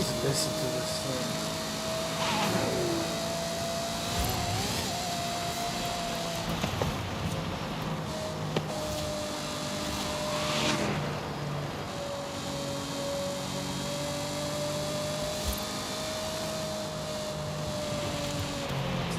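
A car driven in Forza Horizon 5 on a Fanatec CSL DD wheel gives off a steady, droning engine note that holds a sustained pitch with slight rises, under a wash of road and wind noise.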